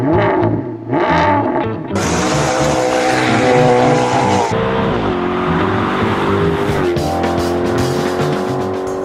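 Maserati GranTurismo with a V8 engine driving hard, its loud exhaust note rising and shifting through revs with a brief tire squeal, close and continuous over the whole stretch, no voices.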